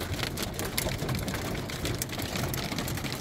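Hail drums on a vehicle during a violent storm, a dense, continuous rattle of hard impacts with sharper individual hits standing out, steady and fairly loud, with no voices.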